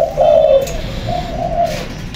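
A spotted dove coos up close, one loud drawn-out hooting call that softens and trails off, with no other sound around it.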